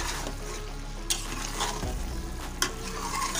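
Palak gosht being stirred and roasted in a pan, a continuous close sizzle and fry with occasional sharp scrapes and taps of the spoon against the pan, no talking.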